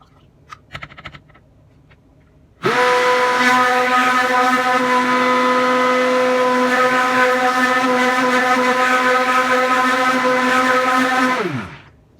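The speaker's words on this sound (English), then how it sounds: "Now we want to use the mixer and mix this until it comes to trace." Electric mixer whirring steadily for about nine seconds while blending cold process soap batter toward trace, a loud sustained hum that starts abruptly after a few soft clicks and winds down at the end.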